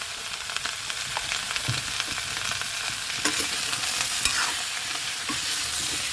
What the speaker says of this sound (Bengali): পরিমাণ মতো লবণ ও হলুদ দেওয়ার পরে আমি এবার ভালো করে ভেজে নেব।